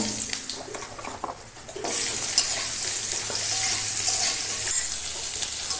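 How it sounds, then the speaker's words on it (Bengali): Potatoes fry in oil left over from frying fish, giving a loud, dense sizzle that jumps up partway through and holds steady after a quieter stretch of stirring. "আলুগুলো ভেজে নেব।"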